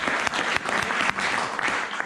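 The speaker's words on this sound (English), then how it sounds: "Can you give away a big round of applause" An audience at a safety-training branch meeting gives a round of applause, fairly faint and somewhat distant, a crackling patter of many hands with brief dips.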